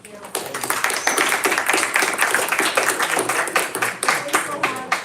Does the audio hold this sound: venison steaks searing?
no